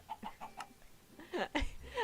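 Minecraft chicken clucks, a few short, soft squawking calls in quick succession, quiet and isolated within the game.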